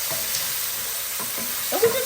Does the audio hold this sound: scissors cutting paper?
no